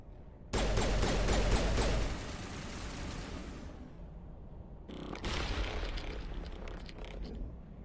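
A grenade blast in Mass Effect 1 Legendary Edition, a loud broadband burst with a rumbling tail, followed a few seconds later by a second explosive burst amid ongoing combat noise.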